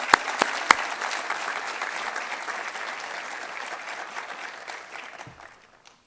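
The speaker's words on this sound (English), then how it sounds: "Let's give Sanithia Green a round of applause." Audience applause at a university State of the University address, a few sharp claps up front, then steady clapping that gradually fades to silence.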